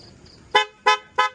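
Three short, sharp car horn toots come close by in an even rhythm, loud against a quiet background, with no talking.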